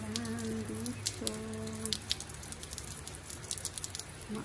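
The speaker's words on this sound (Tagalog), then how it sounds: "Ulan dito." Light midday rain patters down with scattered, distinct drops ticking close by. The sound is faint over a low steady hum, with no talking.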